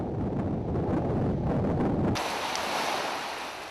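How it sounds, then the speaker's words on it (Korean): Strong ocean waves surging along the Alaskan coast at Shishmaref, a loud continuous roar of surf and wind that shifts midway to a brighter, hissing wash. "벌써 며칠째 사분가의 바다에 파도가 거셉니다"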